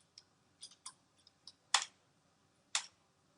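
Keys on a computer keyboard, including the F1 function key, are pressed in a quiet room, giving a handful of light clicks followed by two sharper, louder key presses, close and isolated.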